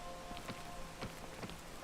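Steady rain patters on a surface during an outdoor hike up a peak, a soft continuous hiss with scattered faint drops, no voices.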